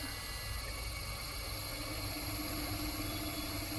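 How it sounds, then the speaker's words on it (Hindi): A steady mechanical hum and whine from a running Daikin inverter air conditioner compressor drones on evenly, with faint vibration and no talking. "आप आवाज़ सुन सकते हैं कंप्रेसर की। कंप्रेसर हमारा चलने लग गया है।"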